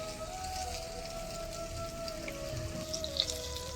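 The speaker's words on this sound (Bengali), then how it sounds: "ওই তেলের মধ্যে আমি আলুগুলো যে কেটে রেখেছি ওগুলো ভেজে নেব।" Cut potatoes with salt and turmeric fry in hot oil, a soft, steady crackle and sizzle with scattered pops, fairly quiet and heard alone.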